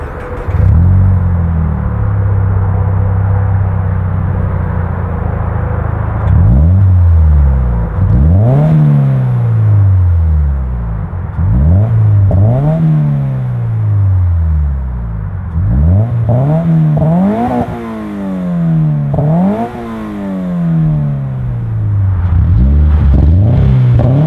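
A car fitted with an Invidia N2 catback exhaust is revved repeatedly outdoors, each loud blip rising sharply and falling back to a rumbling idle, the throttle stabs coming faster and closer together toward the end.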